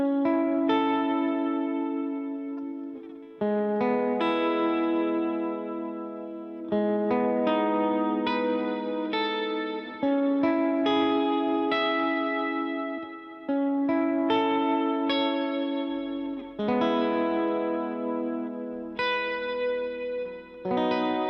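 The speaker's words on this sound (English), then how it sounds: "Let's try it with the reverb on the HX Stomp and the trem." An electric guitar plays slow chords through an HX Stomp with reverb and tremolo, each strum ringing out and pulsing as it decays, repeated in a steady sequence with no voices.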